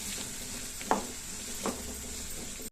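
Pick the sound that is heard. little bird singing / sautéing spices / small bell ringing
sautéing spices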